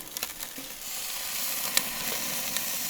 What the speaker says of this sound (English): I'm going to sear this edge first.